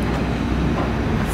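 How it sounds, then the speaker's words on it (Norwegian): An IC3 train with green doors passes at Struer station, giving a loud, steady rumble of wheels and engine that fills the whole stretch with no voices. "Her har vi IC3-toget med nyt logo 5071."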